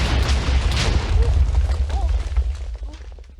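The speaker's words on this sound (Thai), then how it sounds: "ระเบิดนะมันช่างใหญ่เหลือเกิน" A loud, rumbling explosion in FNaF World with a booming low roar that slowly fades, followed by scattered debris sounds.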